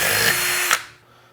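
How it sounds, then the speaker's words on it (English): Power drill boring a pilot hole for an SO-239 coax connector in a DIY 10-meter dipole build; a loud, steady high whine runs for about three-quarters of a second, then cuts off and spins down quickly. "So I'm going to start by doing a pilot hole."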